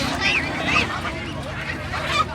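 A few honking quacks from a duck ring out over a busy, noisy background of chatter at a bird market.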